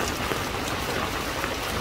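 Heavy rain drums on and around a trawler in the Sundarbans, a constant, even wash of close hiss with no voices.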